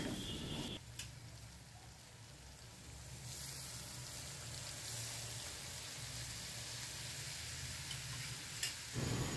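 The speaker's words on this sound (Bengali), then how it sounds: "হালকাভাবে নাড়াচাড়া করে নারকেলের দুধটা এর মধ্যে দিয়ে দেব।" Paneer being gently stirred in a pan as coconut milk goes in, a faint steady sizzle and soft liquid bubbling with light scraping of the spoon throughout, no voices.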